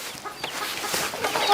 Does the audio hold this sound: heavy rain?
no